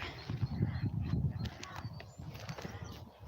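Ducklings quack and peep softly at close range amid outdoor background noise by a duck pond, their calls overlapping in a steady chatter.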